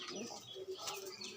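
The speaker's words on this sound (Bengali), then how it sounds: "এবার দুটো সাদা পায়রা দেখাচ্ছি।" A pair of white pigeons, male and female, cooing indoors in a room, soft low coos with faint chirps and a brief flutter, close and quiet.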